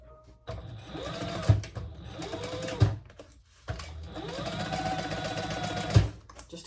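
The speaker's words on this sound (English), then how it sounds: "Let's sew this together." A sewing machine stitches a crossbody bag together in two fast bursts of whirring motor and needle clatter, separated by a short pause, each run ending with a soft thump close by.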